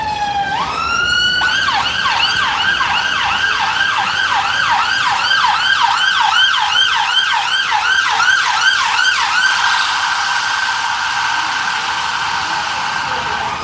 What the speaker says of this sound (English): please excuse the ambulance coming along the road